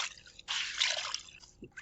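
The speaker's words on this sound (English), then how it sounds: "Just wrapping around, and then it will fit in your palm, and then you just squeeze the water out." Water dripping and squishing from a wet bed sheet being wrung out by hand during hand washing, with short bursts of trickling and patter, close and fairly quiet.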